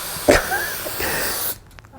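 A manual spray nozzle sprays adhesive onto surfaces during woodworking, giving a close, steady hiss of about a second and a quarter that opens with a stronger burst and then cuts off abruptly.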